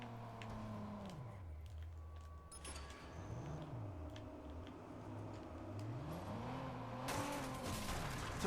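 A car in the Watch Dogs video game drives up onto a roof, its engine droning and rising and falling in pitch as it revs, with brief tire squeals and a louder burst near the end, no talk.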